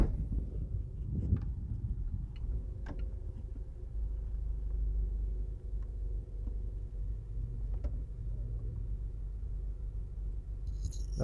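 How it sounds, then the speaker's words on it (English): A car drives through the streets of Savanna-la-Mar in Westmoreland, Jamaica, heard from inside as a steady low engine and road rumble throughout, with a few faint knocks and no talking. "today we're driving through Savlamar and we're going to be actually driving out of Savlamar"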